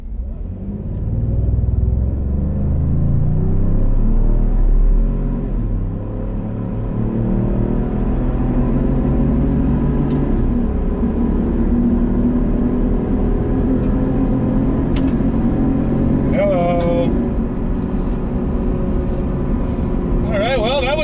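A Ford F-150 Tremor in tow haul mode accelerates hard while pulling a 7,000-pound trailer, its engine rumble rising steadily and filling the cabin, with voices talking over it and a brief sharp sound near the end.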